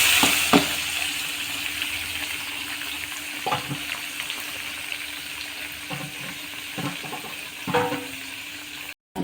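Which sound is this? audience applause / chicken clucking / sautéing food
sautéing food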